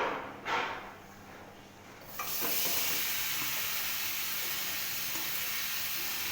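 Tilapia fish hits hot spiced oil in a heated wok, and after a brief quiet lead-in a loud, broad sizzling hiss erupts and holds steady to the end.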